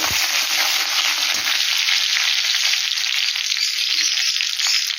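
Curry leaves frying in hot oil for jeera rice, a steady, loud, dense sizzle that stays unbroken throughout with a few faint low knocks of a utensil.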